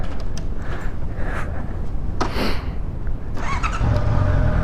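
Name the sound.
motorcycle engine accelerating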